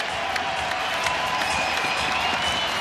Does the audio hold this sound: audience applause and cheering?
yes